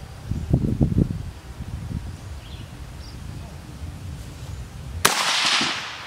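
One loud, sharp gunshot cracks out near the end of a shooting practice session at a target range, after a stretch of quiet murmuring voices and background rustle.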